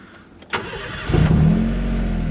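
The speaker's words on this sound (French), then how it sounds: "On démarre la voiture." A Honda Civic engine starts up close by with a short starter crank, then catches and settles into a steady low idle.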